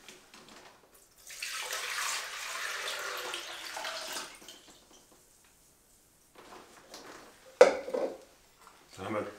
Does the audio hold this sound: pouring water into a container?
yes